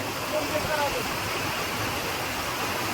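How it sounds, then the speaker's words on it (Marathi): Loud, constant roar of rushing floodwater in a swollen stream at Nimbalak after a cloudburst, filling the whole moment without pause. "निंबळकच्या वाड्याला किती मोठा पूर आलेला आहे"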